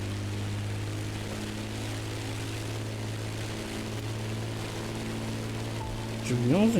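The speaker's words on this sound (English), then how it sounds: "You're going to need a plane that is both sturdy and maneuverable for what's coming." A propeller airplane flies above a volcano through rough conditions in The Crew Motorfest, its steady engine drone holding throughout before a brief rising whine near the end.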